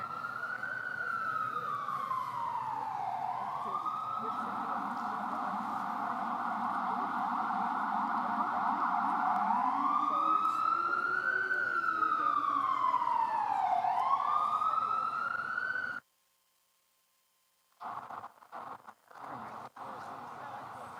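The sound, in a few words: emergency vehicle siren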